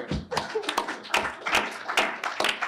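Scattered hand clapping from a small audience at a legal scholars' paper presentation, with irregular separate claps and brief bursts that stay fairly close and modest in volume.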